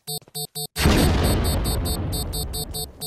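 Grenade explosion in a video game: a sudden loud boom that decays into a long rumbling tail, following a few short repeated tonal game beeps.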